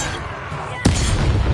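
A sudden loud booming blast from a fire spell in Hogwarts Legacy combat hits against steady game background noise, followed by a lingering rumbling roar.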